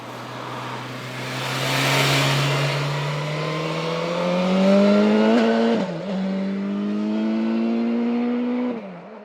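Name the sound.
BMW S1000 XR motorcycle engine revving while riding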